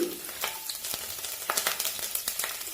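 Fenugreek seeds and garlic fry in hot oil in a pan, with a dense, steady crackling sizzle broken by sharper pops and bursts. It is close and moderately quiet.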